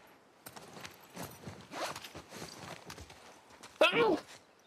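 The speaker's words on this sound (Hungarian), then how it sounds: "vannak lovak, hárman vannak" Horses walk in The Last of Us Part II, their hooves giving soft, irregular clip-clop steps under a voice talking, then a louder shuffle near the end.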